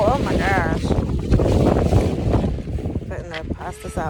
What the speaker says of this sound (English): it's all windy and cold